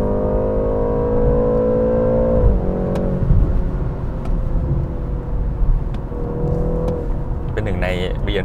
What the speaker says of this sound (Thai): เดี๋ยวผมกดคันเร่งเลยนะครับกระแทกลงมาอย่างนี้ครับ